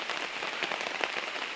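Light rain patters steadily outdoors on a misty mountainside, a soft continuous hiss of drops with no voices.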